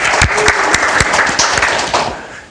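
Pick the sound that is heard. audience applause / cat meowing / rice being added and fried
audience applause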